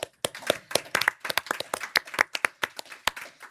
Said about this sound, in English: let's all have a big round of applause